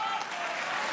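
Church congregation applauding during a sermon, a short steady burst of clapping from a crowd.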